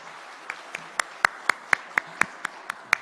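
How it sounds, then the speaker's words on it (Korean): Members of a church congregation clap in a sparse, evenly spaced rhythm of about a dozen sharp, distinct claps over three seconds, close and clear with no talking. "네, 박수 주세요. 박수 주십시오."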